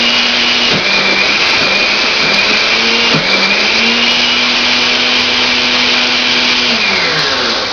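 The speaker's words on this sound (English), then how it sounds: "so you guys don't have to watch the blender keep going" A blender running loud and close while blending raw marinara sauce, a steady motor whine whose pitch shifts and dips a few times as the load changes, alone without talk.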